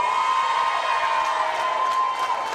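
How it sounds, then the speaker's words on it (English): A crowd in a gym cheers for a senior player on volleyball senior night, with sustained loud cheering, whoops and shouting at close range throughout, and some clapping mixed in. "Callista Lamberis, you'll hear the crowd for her."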